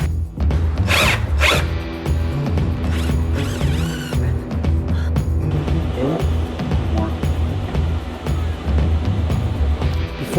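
A power drill bores mounting holes for a DIY rocker panel splitter on a car, short whining bursts mixed with mechanical rattles and handling clatter, close and fairly loud.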